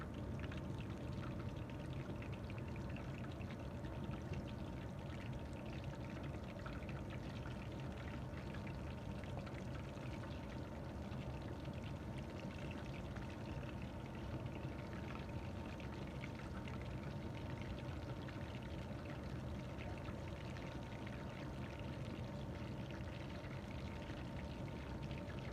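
Ingredients are poured steadily and continuously while crispy spicy chicken is being made, a constant wash of pouring noise at an even, moderate level from start to finish with no one speaking.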